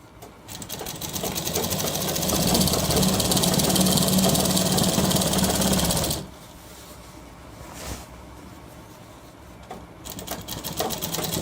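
A sewing machine runs fast and loud while stitching a shirt, a dense rattling whir held for about six seconds that then cuts off abruptly, followed by quieter handling noise and a brief restart near the end.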